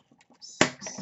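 Paper for a handmade accordion craft album being cut, with faint rustling and handling followed by one sharp, crisp cutting snap midway that trails into soft paper noise.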